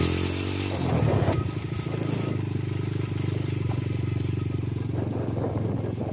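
A Honda Grom motorcycle fitted with a Nibbi carburetor idles steadily up close, a busy, even putter with a slight rev at the start that settles into a constant thrum.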